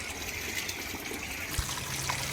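Water poured from a bucket onto the floor of a chicken-rearing room, a continuous splashing trickle with a brief louder gush near the middle.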